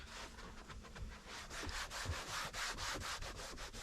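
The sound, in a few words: wiping down a car's steering column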